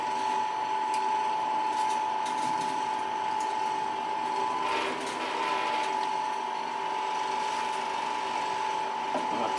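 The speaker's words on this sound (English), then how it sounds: "I've got a little tiny air pocket in the impeller" A small brewing pump with a tiny air pocket in its impeller hums with a steady electric whine. Faint mechanical ticking and gurgling run beneath it throughout.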